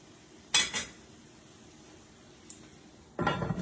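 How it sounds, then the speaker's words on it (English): Ground turkey and vegetables are stirred in a pan, with a metal utensil clattering briefly against the pan, a long quiet pause, and then a longer burst of scraping and clinking. "We're going to give everything a good stir."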